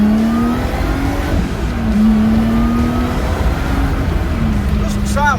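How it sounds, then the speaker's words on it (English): Lotus Exige V6 on its standard exhaust in sports mode with the valves open, revving loudly and close by as a steady, droning engine note that holds throughout with slight rises in pitch. "Chuck it in sports mode and open the valves, and it's quite loud."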